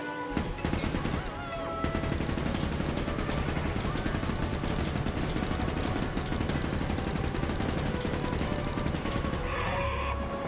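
Gunfire in the video game Ship of Boring: dense bursts of rapid shots crackle over a loud, continuous wash of game noise, with sharp individual reports standing out at irregular intervals.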